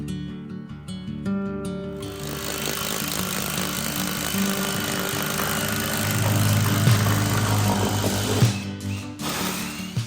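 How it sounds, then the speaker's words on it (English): A loud, continuous whirring power drill bores a hole under a sink for several seconds, its pitch shifting slightly as it bites, with clattering at start and end. "While you're drilling a hole"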